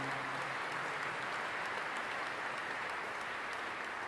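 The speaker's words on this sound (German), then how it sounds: "Geben Sie mir einen kräftigen Applaus ebenfalls" Steady applause from the audience at a gala concert of the Festival of Jewish Choirs of Europe 2023, dense and continuous clapping in a hall, fairly faint, with no voices over it.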